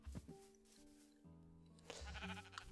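Sheep in the Minecraft video game bleat in a few short, wavering calls, with game background sounds steady underneath.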